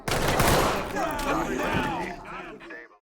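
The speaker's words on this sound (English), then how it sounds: "a very punchy and loud gunfire instills a real instinctive response for you to take cover and return fire" Gunfire from the tactical shooter Ready or Not comes as a dense, punchy volley of rapid shots, loud and close at first before thinning out and cutting off near the end.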